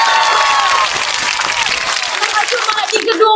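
An audience at a vocational high school student council podcast bursts into sustained applause with scattered cheers and crowd noise, loud and continuous throughout.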